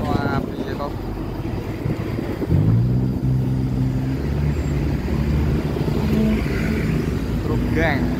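An empty truck passes on a road with a low, steady engine rumble, a heavier drone building midway and holding, set against wind buffeting on the microphone while people talk nearby.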